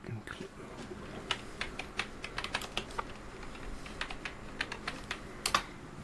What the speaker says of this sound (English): Gotta forgive the clicking noise. No. No, you're fine. That old, the old typing.